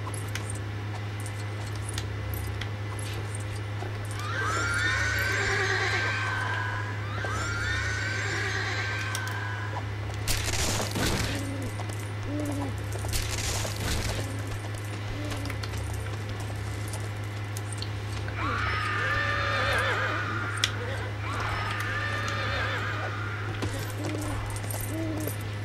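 Two pairs of horse whinnies ring out over a steady low hum, with a couple of sharp clanks in between; a game-like, looped feel, from LEGO: Lord of the Rings.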